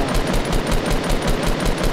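Rapid automatic gunfire in Fortnite, a loud, steady rattle of about a dozen evenly spaced shots over two seconds.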